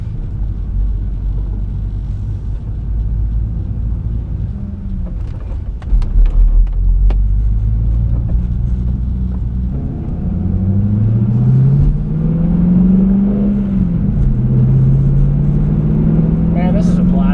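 A 1996 Ford Mustang GT V8 rumbles close by at idle, then drives off with rising engine tones through gear changes, a loud steady low growl throughout.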